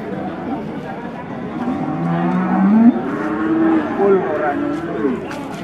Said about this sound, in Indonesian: 2 ekor sapi jumbo limusin di pagi hari.